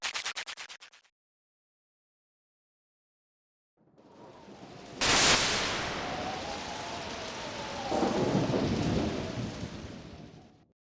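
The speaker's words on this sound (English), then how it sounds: "That lightning's intense! It looks like it's real stormy tonight." Thunder and lightning storm in the Pokémon Mystery Dungeon Explorers of Sky game: a sharp lightning crack, then a long rolling rumble with a steady rain-like hiss, and a second swell of thunder near the end after a brief opening sound and silence.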